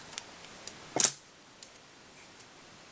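Scissors make a single crisp snip while material is trimmed during tying of a Storm Crow Muddler fly, set between a few faint metallic clicks in an otherwise quiet room.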